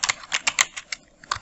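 Fingers type quickly on a computer keyboard during graphic design work in CorelDRAW, the keystrokes crisp and close in an uneven rapid patter with no voices.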